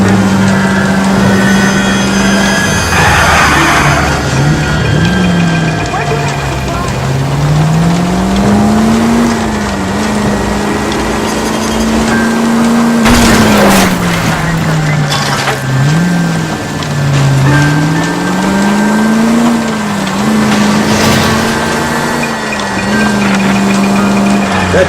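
A car driving in L.A. Noire, its engine droning loud and close throughout, pitch rising and falling as it accelerates and eases off, with one brief crash partway through.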